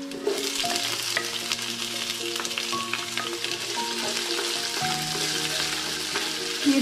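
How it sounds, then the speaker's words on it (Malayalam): Onion sautés in a pan with ginger and garlic, a loud, continuous sizzle broken by repeated scraping stir strokes close by, with no voices. "ഈ സവോള നന്നായിട്ട് വഴലാൻ നിൽക്കണ്ട, ഒന്ന് നിറം മാറി വന്നാൽ മതി."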